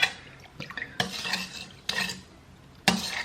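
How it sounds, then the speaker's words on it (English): A spoon stirs a sugar mixture in a pot, scraping and clinking in four distinct bursts, each separated by short quiet pauses. "when I'm done stirring the whole thing until the sugar has dissolved"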